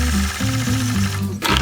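A sewing machine stitches a machine-quilted piece, producing a steady, close mechanical whir whose pitch shifts a few times before it stops briefly and restarts near the end; no voices.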